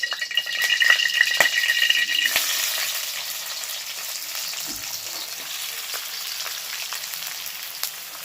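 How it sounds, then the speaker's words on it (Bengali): Onions go into hot oil in a pan while cooking a desi-style chicken curry with new potatoes, sizzling and crackling loudly at first, then settling into a steady, softer fry with an occasional stir. "এবার এই তেলের মধ্যে দিয়ে দেবো পেঁয়াজ।"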